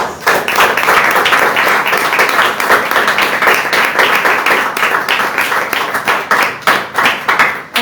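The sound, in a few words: church congregation applause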